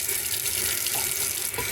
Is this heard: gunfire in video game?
no